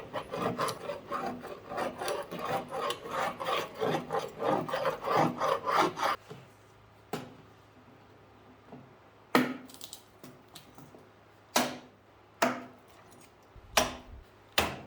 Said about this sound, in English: it's better to kind of scrape off the excess glue before it gets hard